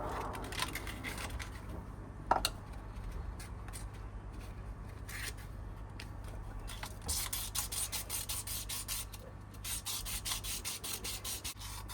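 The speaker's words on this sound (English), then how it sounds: "So we'll just sand these down." Sandpaper rubbing PVC pipe fittings for a filtration system, a steady scratchy abrasion with bursts of faster scrubbing, close up over a low constant hum.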